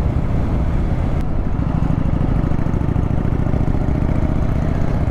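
A Yamaha Virago 1100 motorcycle engine pulls from idle with a steady, dense, low rumbling drone that stays loud and continuous throughout, with no talk over it.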